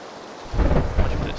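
A rolling rumble of thunder with a rain wash comes from a rainy scene in the video game PUBG. The sound is fairly loud and swells briefly after a quiet start.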